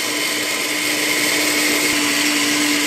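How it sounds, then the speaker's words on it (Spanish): An electric blender grinds melon seeds with water for agua fresca, a loud, steady whirring drone with a constant motor whine running unbroken from start to finish. "Vamos a licuar bien."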